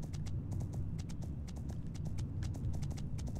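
Rapid, steady clip-clop of horse hooves at a brisk pace, close and clear, in the video game Horse Life with no talking.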